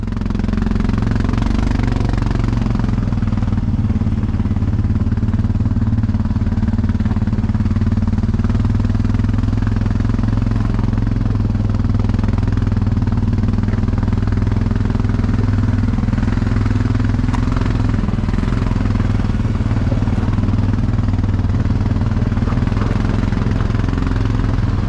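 A Suzuki King Quad 750 ATV with a stainless steel exhaust runs steadily throughout, a loud, continuous low engine drone with a faint rattly clatter on top and no talking.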